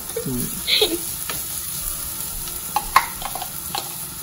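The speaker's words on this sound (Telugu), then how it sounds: "గార్లిక్ బెడ్ చేసి ఆ బెడ్ మీద ఫిష్ ని లే చేయాలి." Fish laid onto a bed of garlic in a hot pan, with a steady frying sizzle and a few stirring clinks and scrapes under a brief voice early on.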